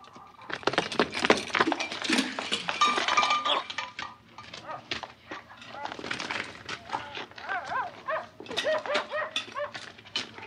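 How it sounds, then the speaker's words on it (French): Several dogs bark excitedly in the background of a rural village scene in the French film La Guerre des boutons, overlapping with people shouting and talking nearby, the barking rising and falling in bursts through the clip. "C'est toi qui fais gueuler les chiens comme ça?"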